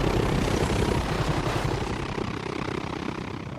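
A military helicopter from a film scene gives off a dense, steady rotor roar with rapid rhythmic chop, loud and close, alone without voices over it.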